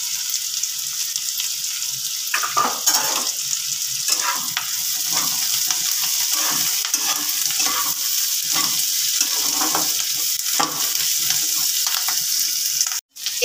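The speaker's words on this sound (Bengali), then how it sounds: "আমি পেঁয়াজটাকে ভালো করে একটু ভেজে নেব।" Onion, green chilli and capsicum fry in a pan for a Bengali chilli fish dish, giving a bright steady sizzle over irregular stirring and scraping strokes, close and fairly loud, with no talk.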